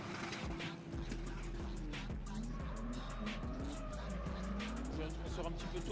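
Audi race car pushed through the final section of a track, engine droning steadily with tire squeal and skidding, heard from onboard under continuous excited commentary.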